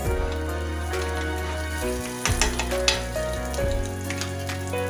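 A paratha fries in ghee on a hot griddle, giving a steady, close sizzle with small crackles and a brief disturbance midway as it is moved.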